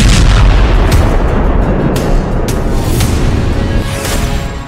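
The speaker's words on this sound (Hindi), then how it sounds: "धमाका इतना जोरदार था कि आसपास की दुकानों में लगे शीशे टूट गए" A loud explosion from a fallen high-tension power line rumbles heavily throughout, with several sharp cracks breaking through the roaring low boom. No voices are heard.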